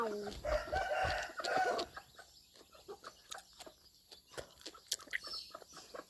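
Chickens cluck and a rooster crows at feeding time in a rural Thai yard, a hen with chicks among them; crowing and busy clucking come first, then scattered soft clucks and pecking sounds continue close by.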